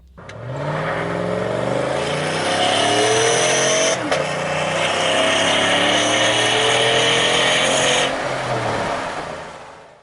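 A pickup truck fitted with a Diablo tuner accelerates hard from 0 to 60 mph, its engine roaring loud and close with rising revs through several gear shifts for about nine seconds before easing off.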